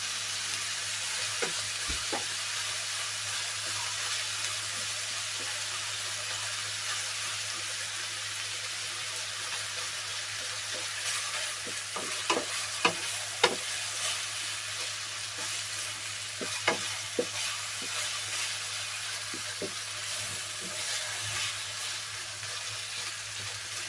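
Ground beef giniling frying in a pan until golden brown, a steady broad sizzle running throughout with occasional small pops and stirring clicks, no talking.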